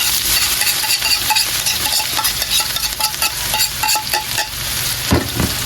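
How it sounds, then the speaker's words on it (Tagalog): Onion, ginger and garlic sautéing in hot oil, a loud close sizzle with crackling and spatter, with light clinks of a utensil and a louder clatter near the end, no talking. "Mainit na yung mantika natin. Igisa na natin tong lamas."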